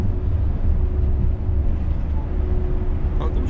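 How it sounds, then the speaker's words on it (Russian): Forklift carrying a load, one of two working nearby, its engine giving a steady, loud low rumble with a faint constant hum throughout and no talk. "Погрузчик везет."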